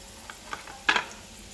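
Curry leaves hitting hot oil for semiya upma, a brief soft sizzle with a couple of small pops and one louder burst of spitting near the end.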